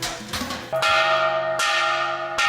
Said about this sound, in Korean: 아침 식사를 알리는 종이 울린다.